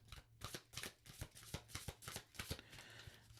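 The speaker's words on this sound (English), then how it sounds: "We're going to pull one more card, or however many cards are going to come out in this last shuffle." Tarot cards are shuffled by hand nearby, a quiet run of rapid riffling taps in an uneven rhythm lasting a few seconds with no talk.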